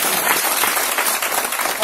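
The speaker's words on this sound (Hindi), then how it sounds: "हमने बुलाते एक बार जोरदार ताली कलाम साहब," Lecture audience at an engineering college breaking into loud, continuous applause, a dense wash of many hands clapping that stays strong for the whole stretch.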